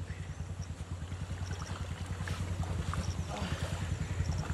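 A motorcycle engine runs steadily after water was drained from its exhaust, a rapid low putter pulsing throughout at close range, with faint wind and background noise.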